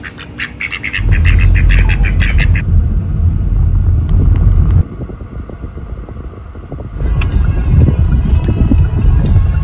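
Ducks quacking by a backyard bayou on a hot summer day, a burst of busy calls mixed with other birds over a steady low rumble, fairly loud and close with no talking.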